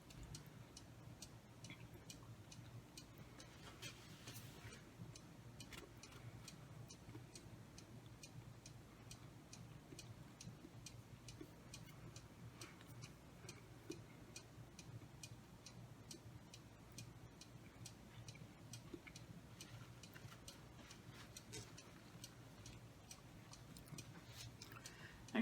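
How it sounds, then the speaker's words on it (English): A cuckoo clock ticks in a steady, even rhythm, faint and close, continuing for a long stretch over a quiet room with low background noise and no talking. "I mean, it still ticks, but I turned the door off so the cuckoo don't come out."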